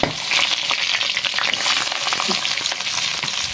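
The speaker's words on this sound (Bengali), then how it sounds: "দিয়ে একটু লাল লাল করে ভেজে নেব" Chopped garlic, onion and whole green chillies fry in oil, a loud, dense, close sizzle that carries on steadily with faint stirring and no voices.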